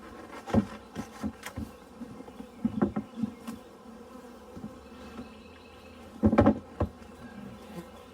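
Honeybees buzz and drone close by around a hive, with intermittent louder bursts as individual insects pass near, over a low steady hum of activity.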